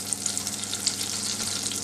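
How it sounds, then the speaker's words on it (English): About 25 grams of butter melts in a pan for cauliflower cheese, giving a close, steady crackling sizzle with small pops scattered through the whole stretch. "put 25 grams or an ounce of butter into a pan and melt it"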